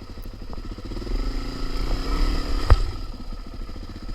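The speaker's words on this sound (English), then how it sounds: "You just ride across the log." A Suzuki DRZ400 dirt bike rides slowly across a log on a Cape York trail, its single-cylinder engine chugging and rising briefly under throttle, close and loud, with one sharp clunk as the bike drops off the log.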